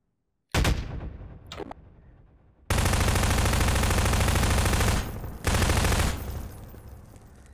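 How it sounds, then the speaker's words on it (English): Loud, close gunfire from the Half-Life 2 video game played in VR with an Oculus Rift DK1 and Razer Hydra: a single sharp shot, a fainter second crack, then long sustained bursts of rapid automatic fire with a brief gap between them. "they still respond to the gunfire"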